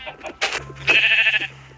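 Sheep bleating in Minecraft Sky Block, a couple of short wavering bleats rising over quiet game sounds, close and fairly clear, with faint talk nearby.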